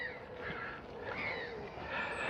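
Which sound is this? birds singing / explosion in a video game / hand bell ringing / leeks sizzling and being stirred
birds singing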